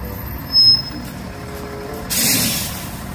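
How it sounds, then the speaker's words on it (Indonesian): A toy school bus gives off a brief air-brake-like hiss near the end, after a short high beep, over a low steady hum. "Mobil bus sekolah, teman-teman."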